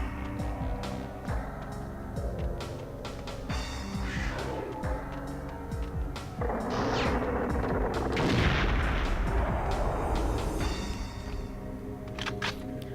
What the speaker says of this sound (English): I'm going to switch to the Devastator, which is a grenade launcher.